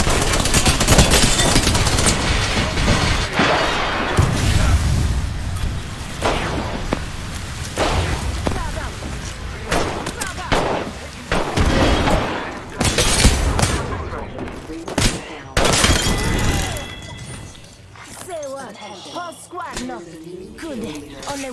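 Rapid bursts of gunfire and booming grenade blasts from an Apex Legends match crowd the mix, with dense fusillades and heavy thumps going on almost nonstop while a voice talks over the chaos.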